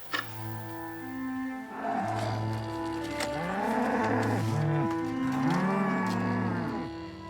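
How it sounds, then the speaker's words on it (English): Skarhult cattle on castle meadows mooing, several long, deep, drawn-out calls in quick succession, loud and close, some overlapping into a low chorus. "The Skarhult cattle that graze on the castle's meadows"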